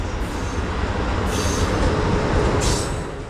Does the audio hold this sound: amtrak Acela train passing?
yes